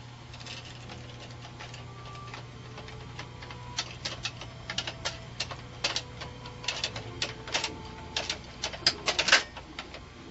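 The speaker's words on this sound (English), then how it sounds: "Knit this next row very slowly." A BOND knitting machine carriage is pushed slowly along a row of needles, giving a steady run of close, mechanical clicks and clacks that grow slightly louder and busier toward the end, with no talking.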